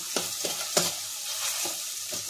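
Cooked rice frying in a pan with tomato, giving a steady hiss with soft scrapes of stirring. A few sharper crackles stand out, and no one speaks.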